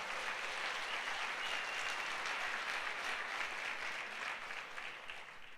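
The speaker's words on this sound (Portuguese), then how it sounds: "Então dá um aplauso ao Senhor" A church congregation applauds together in a steady, dense wash of clapping that stays loud and even throughout, easing slightly at the very end, with no voices over it.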